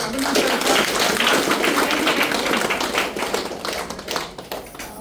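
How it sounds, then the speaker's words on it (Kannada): A large audience at a business presentation claps loudly, a dense continuous wall of applause that holds strong and then thins slightly near the end. "ಜೋರ ಚಪ್ಪಾಳೆ"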